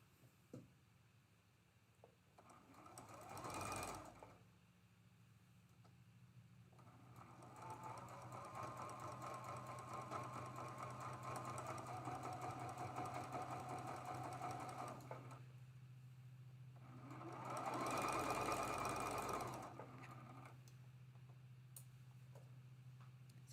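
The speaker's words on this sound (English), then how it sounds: "hold that in place as I sew this 4 patch together" A sewing machine stitches a quilt four patch together in two close bursts of rapid mechanical ticking, separated by a quieter stretch of low steady hum.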